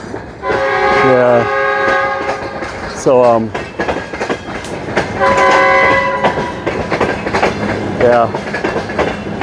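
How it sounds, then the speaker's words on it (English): A train passes through woods, loud and close, sounding its horn in several long blasts over a rumbling, clattering run, with a person speaking briefly between the blasts. "Here you can hear the train."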